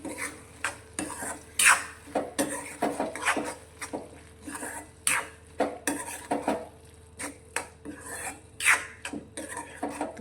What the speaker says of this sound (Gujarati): સારી રીતે શાકમાં મિક્સ કરી લઈશું